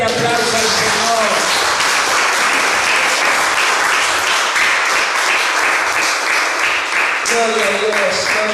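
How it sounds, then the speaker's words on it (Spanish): A church congregation gives loud, sustained applause that fills the room for several seconds, while a voice speaks over the clapping at the start and again near the end. "Denle un fuerte aplauso al Señor."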